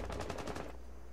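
Rapid automatic gunfire in a first-person shooter video game, a quick string of about six evenly spaced shots that stops abruptly, moderately faint.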